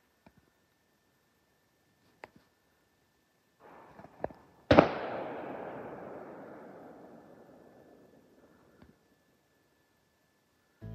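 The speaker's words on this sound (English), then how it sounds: "I just heard 2 more gunshots." A single sharp, loud gunshot with a long rolling echo that slowly fades, preceded by a few faint pops in an otherwise quiet night at Wolf Lake, Temagami.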